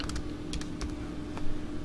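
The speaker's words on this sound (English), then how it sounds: "I typed the wrong word" Keys clatter on a computer keyboard in a short burst of several quick taps, close and clear over a steady low hum.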